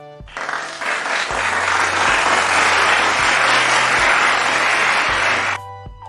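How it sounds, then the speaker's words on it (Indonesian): Steady applause from many hands clapping together, dense and sustained for several seconds, then stopping abruptly. "Bunyi tepuk tangan."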